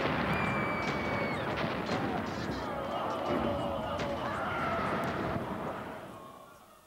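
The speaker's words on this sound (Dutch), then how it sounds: "Hij liet al zijn kanonnen op hetzelfde stuk muur vuren." Cannons fire together on one stretch of city wall during the siege of Constantinople. Booms and crashes rumble over a dense, continuous din of battle, with faint voices mixed in.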